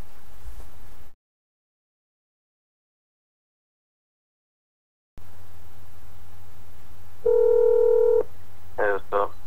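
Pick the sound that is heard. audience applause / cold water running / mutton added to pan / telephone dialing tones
telephone dialing tones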